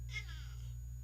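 A cat gives a single short, faint meow over a steady low electrical hum in a room with ham radio equipment.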